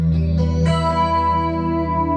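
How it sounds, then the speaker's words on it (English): Sustained keyboard chord played through a wet mix of reverb, delay and chorus, with shimmering layered tones and an echoing tail, no voices. "got the reverb, it's got delay, it's got chorus."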